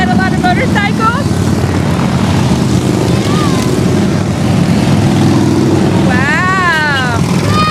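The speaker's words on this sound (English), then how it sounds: "There's a lot of motorcycles." A long stream of motorcycles roars past during a Rolling Thunder ride, a loud continuous engine drone filling the scene, with a horn-like tone near the end and a child and adults chattering over it.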